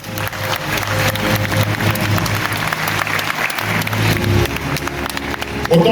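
A large audience at the Ballon d'Or 2025 ceremony gives loud, sustained applause, with a crowd murmur and a low hum underneath and a brief sound at the end.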